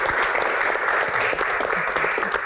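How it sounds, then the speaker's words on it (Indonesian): A crowd claps steadily and densely for a couple of seconds, the applause loud and continuous with no clear break. "Tepuk tangan untuk Ibu Ria Sungkar."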